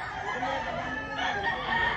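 A fighting rooster in Lipa, Batangas crows loudly and close by, one long drawn-out call filling the whole moment.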